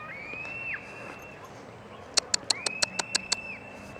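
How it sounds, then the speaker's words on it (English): A horse at a coffee festival at Crescent Creek in China, with short rhythmic clopping or snorting bursts in the middle distance, amid a faint outdoor background with birds and a high whistling tone. "See if we can get up and get close to this horse here."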